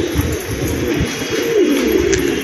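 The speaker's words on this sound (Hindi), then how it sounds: "ये है वो जंगली कबूतर" A wild pigeon coos in low, rolling phrases close by, repeated over a soft outdoor background.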